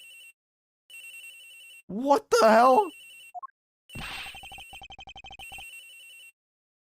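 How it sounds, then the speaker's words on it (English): In the Ace Attorney Investigations video game, a telephone rings in repeated electronic bursts separated by short pauses, with a man's brief spoken exclamation between rings. "A ringing's coming from somewhere in here, sir."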